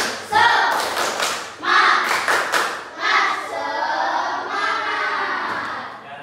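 A primary school class does a rhythmic group clap in bursts, with sharp hand hits and shouted chanting in unison. Several loud claps and calls follow one another before the sound settles into murmuring voices.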